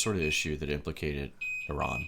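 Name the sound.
perimeter alarm beeping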